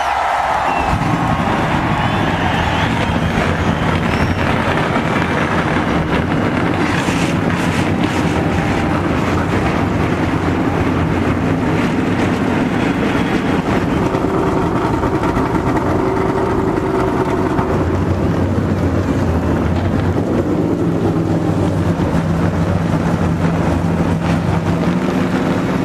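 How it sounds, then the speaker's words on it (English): NASCAR Winston Cup stock car engines roaring to life together at New Hampshire International Speedway, a dense, continuous rumble with wind buffeting and distant crowd noise throughout. "gentlemen, start your engines."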